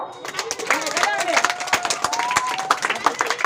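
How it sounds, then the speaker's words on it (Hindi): Children clap together at a school Teachers' Day birthday celebration, a dense patter of small hands running steadily throughout, with voices and chatter mixed in underneath. "ताली बजाओ"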